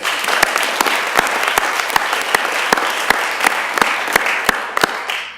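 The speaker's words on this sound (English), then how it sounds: "another round of applause for the parents of our student athletes" Steady applause from an audience at a school board of education meeting honoring student athletes and their parents, a dense wash of clapping with sharp individual claps standing out, sustained and fairly loud throughout.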